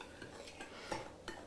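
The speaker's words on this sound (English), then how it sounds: "I'm going to stir my sugar and my cornstarch together" A spoon stirs sugar and cornstarch together in a bowl for a coconut cream pie, faint scraping strokes with a few soft clinks, close by and without talk.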